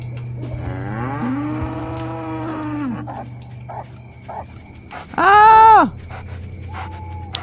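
Cows mooing in the video game Edge of Hearts, one long drawn-out low moo followed later by a louder, shorter bellow over a steady background hum, with faint thuds and a panting dog between.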